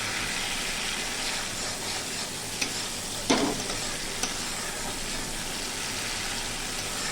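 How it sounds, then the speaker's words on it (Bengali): Spice paste cooks down in a hot pan for an okra dish, giving a continuous even sizzle with a few soft scraping stirs, steady and close with no voices. "দেখুন মশলাটা আমার মোটামুটি কষানো হয়ে এসেছে।"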